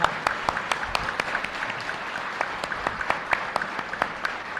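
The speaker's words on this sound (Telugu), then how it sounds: "చప్పట్లు కొడితే ఉత్సవం" An audience at a meditation gathering bursts into applause, with sharp, distinct individual claps in a brisk, uneven rhythm that continue throughout, fairly close and loud.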